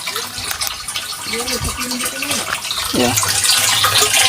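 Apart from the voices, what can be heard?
strong water flow from a pipe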